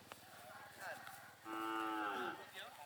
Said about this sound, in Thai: ควายของพ่อหวานแม่นา สูงร้อยยี่สิบอัพ อายุ9เดือนครับผม